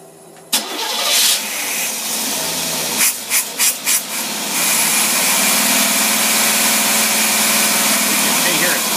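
Engine fitted with a Holley single-barrel carburetor, starting with a sudden loud catch and then running steadily, with a few brief revving surges, close and loud.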